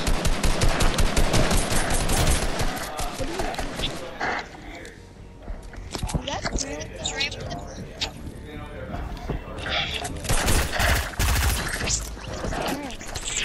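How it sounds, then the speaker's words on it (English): Gunfire in Fortnite rings out in dense, loud bursts at the start and again near the end, with quieter stretches between as players talk over it. "Okay, let me shoot at you."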